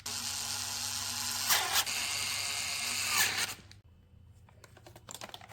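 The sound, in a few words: tightening the four bolts of the EVOTECH mount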